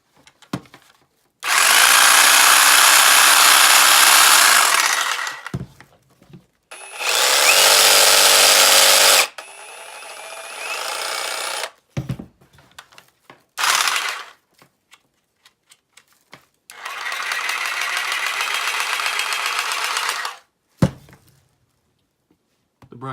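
Ryobi reciprocating saws, one brushless cordless on a 4 amp hour battery and one corded, cutting in several loud, close bursts of steady buzzing lasting a few seconds each, separated by short pauses, clunks and handling noise.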